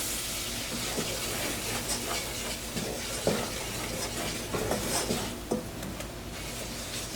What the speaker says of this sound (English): We're going to cook and stir this for about 2 minutes.